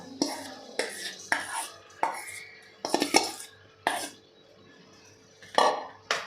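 Soaked basmati rice is stirred in ghee inside a pressure cooker, producing sharp, irregular clinks and scrapes of a metal spoon against the pot, close and fairly quiet, with short gaps between strokes.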